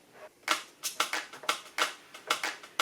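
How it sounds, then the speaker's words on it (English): Sharp, bright hand claps land in a steady, evenly spaced beat over a busy percussion loop, crisp and up close. "I started layering in claps on the quarter notes"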